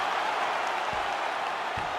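A video game crowd cheers and applauds after a UFC fight, a broad, steady roar heard at moderate distance, with two short low thumps partway through.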